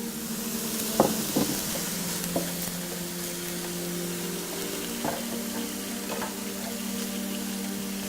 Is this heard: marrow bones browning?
yes